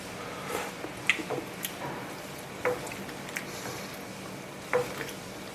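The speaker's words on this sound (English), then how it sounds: "We're going to keep cooking this for a bit until it browns even more and it becomes slightly oily" Peanut sauce cooks in a pan with a low, continuous sizzle, broken by scattered clicks and scrapes as it is stirred. No one speaks.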